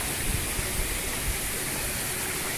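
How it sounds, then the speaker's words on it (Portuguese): Iporanga waterfall, a steady broad rush of falling water, close and continuous, with no voices over it. "essa é a cachoeira aqui do Iporanga"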